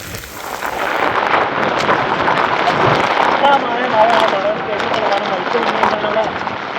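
Heavy rain with thunder and lightning pours down at Kakkadampoyil in a steady, loud hiss while someone talks close by over the downpour.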